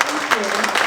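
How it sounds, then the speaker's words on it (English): A brief burst of audience clapping at a community forum on Muslims, Arabs and the NAACP, close and fairly loud with some voices mixed in. "Let's give her a nice round of applause."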